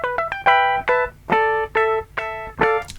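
An EZGuitar MIDI electric guitar lead in a dark symphonic metal style: a short melodic line of clean, sustained picked notes with quick grace notes, up front and alone with no talking.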